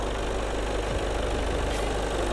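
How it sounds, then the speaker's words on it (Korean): A Volkswagen Arteon 2.0 TDI diesel sedan engine idles with the hood open, a steady, even low rumble with a faint diesel clatter, close and continuous. "엔진 소리 일정하네요."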